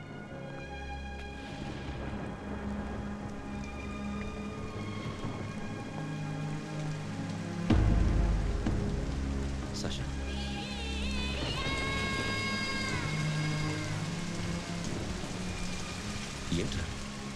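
Steady heavy rain hisses and patters through a scene from a Telugu comedy film, with a swell of thunder partway through and a voice calling out briefly over it.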